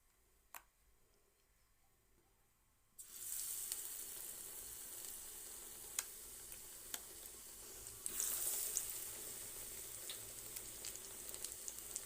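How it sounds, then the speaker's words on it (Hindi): Pakoras sizzling in hot oil, a quiet start giving way to a steady loud hiss from about three seconds, with faint ticks and a swell of crackle near the eighth second. "अब जो और है ये भी हम इसमें फ्राई करेंगे।"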